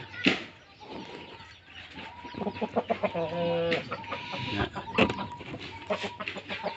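Fighting-cock breeder rooster on a farm clucking in repeated bursts, with harmonic calls up close amid other fowl; no talk over it.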